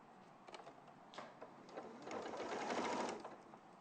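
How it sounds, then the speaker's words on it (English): A sewing machine stitches fabric in short quiet rattling bursts that build into a steadier whirring run, close by and faint, with no talk over it. "I'm going to sew out of that corner."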